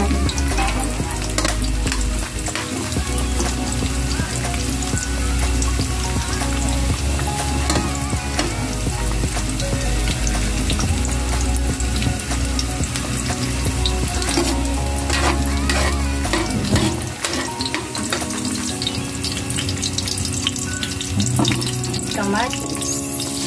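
Onions fry loudly in a home pan, a steady close crackling sizzle with stirring scrapes throughout, easing briefly near the end before resuming.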